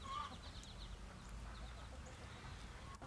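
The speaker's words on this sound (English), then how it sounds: "the hens having a nice cleanup moment at the end of a work session" Hens cluck softly and intermittently while tidying up at the end of a black walnut processing session, with a steady low background rumble running underneath.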